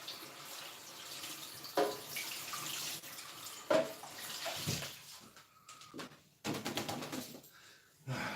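Water runs from a kitchen tap while something is rinsed under it, a steady splashing flow with a few clatters and brief gaps near the end.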